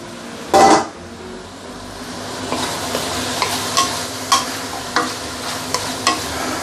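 Meat and leeks stir-fry in a pan with a steady close sizzle, punctuated by sharp scraping and clacking strokes of the utensil against the metal.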